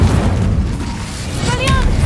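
Incendio fire spell cast in Hogwarts Legacy, a game: a loud, booming burst with a roaring whoosh, rising near the end into a brighter flare of crackle.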